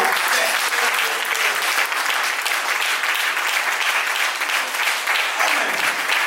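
Congregation at a prophetic church service clapping steadily: dense, loud, sustained applause throughout, with faint voices mixed in.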